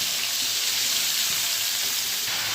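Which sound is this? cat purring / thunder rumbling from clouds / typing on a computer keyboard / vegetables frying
vegetables frying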